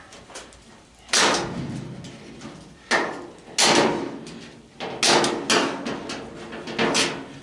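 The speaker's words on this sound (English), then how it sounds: "I'm going to see if I can't pry that up. Screwdriver, my little pry bar." A screwdriver pries a clip off the clean sheet-aluminum housing of an old clothes dryer being scrapped for copper and aluminum, giving several loud metallic clanks and scraping bangs at uneven intervals, close by.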